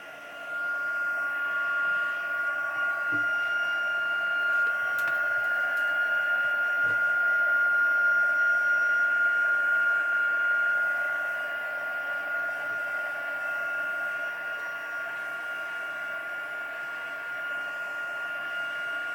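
A hair dryer blows a steady, close whirring roar with a thin high whine to dry a junk journal page, running continuously with only slight changes in loudness and a couple of faint knocks.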